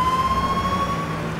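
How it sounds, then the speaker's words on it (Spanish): Police car siren in the game H1Z1, a steady wailing tone that carries loud and close over low engine noise, with no voices. "vamos a poner demasiado la sirena"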